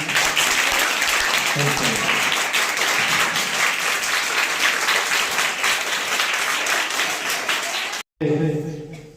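An audience at a school maths day quiz claps loudly and continuously for all the teams, a dense sustained round of applause that cuts off abruptly near the end before a voice speaks briefly.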